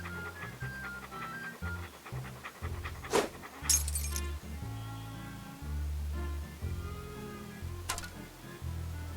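Dog panting in Monkey Island 2, a soft rhythmic breathing loop heard over blocky synthesized game music with a couple of sharp effect hits.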